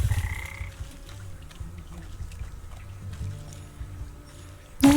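Frogs croak repeatedly in a swamp in the game Wytchwood, a low rhythmic chorus running steadily throughout with a brief louder sound at the very end.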